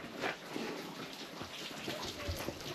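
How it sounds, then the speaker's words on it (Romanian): Steady rain falls outdoors at a house in the woods, a dense continuous patter on surfaces with scattered closer drops, even and unbroken throughout with no voices. "profit de faptul că a început ploaia să mai clădesc lemnele astea"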